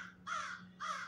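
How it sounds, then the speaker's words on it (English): A crow gives two loud, harsh caws outdoors, the first longer and the second shorter and slightly weaker, under a steady low hum and with no talk. "the crow is in agreement with me"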